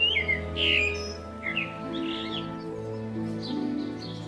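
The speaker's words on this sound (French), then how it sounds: "la proximité des oiseaux, qui sont quand même des oiseaux urbains, et qui ont pas peur" Urban birds chirp and tweet in a Paris cemetery, several short bright calls in bursts over a steady low background hum, fairly near and moderately loud.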